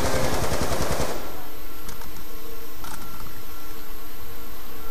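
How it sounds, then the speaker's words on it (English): Rapid gunfire from a Black Ops 2 Zombies video game, on the Buried map, rattles close and loud in a dense burst for about a second, then gives way to quieter in-game ambience and scattered faint clicks. "Yours sounds like a silent pistol I'm shooting"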